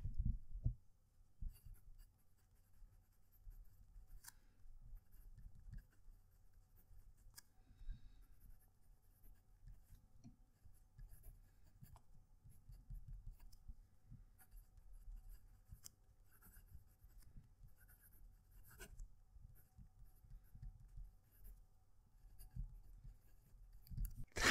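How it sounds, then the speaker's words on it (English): Fountain pens, a PenBBS 494 and a HongDian 960, scratch across paper with the mic held close to the page, a faint, continuous soft scratching with small irregular strokes and pauses and no talking. "I'm going to move the mic close to the page so you can hear as I write."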